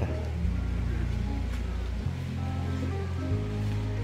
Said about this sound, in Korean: 곡물이 저 위에서 이제 폭포처럼 해서 쭉 내려가 큰 바위 사이로 좁은 물로 해서 내려오네요